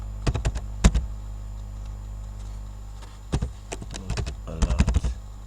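Clusters of quick clicking keystrokes on a computer keyboard while writing code, bursts of rapid taps separated by pauses, close and fairly soft over a low steady hum.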